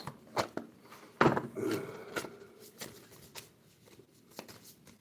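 Tarot cards are shuffled by hand, with several quick riffling bursts and soft shuffling noises, close by and with no talking.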